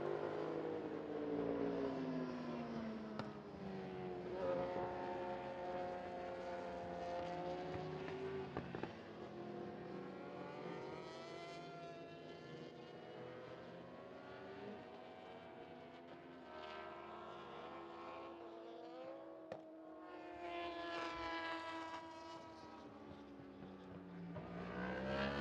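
Yamaha YZF R1 superbike racing at Sepang International Circuit in a Malaysia Superbike Championship race. High engine whines sweep up and down through gear changes as bikes pass, rising and falling in pitch with a steady background roar.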